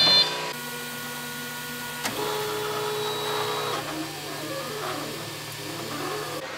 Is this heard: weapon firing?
no